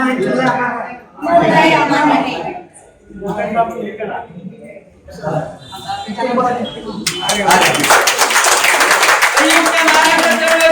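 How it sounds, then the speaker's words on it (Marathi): An audience at a Narayan Surve birth-centenary literary event in Thane breaks into sustained, dense clapping after a stretch of amplified talk, and the applause continues loudly to the end. "सर्वांनी टाळ्या वाजवून त्याच्यामध्ये सहभाग घ्यायचा आहे"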